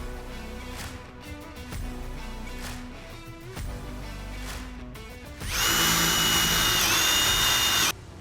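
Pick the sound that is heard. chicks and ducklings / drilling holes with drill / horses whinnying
drilling holes with drill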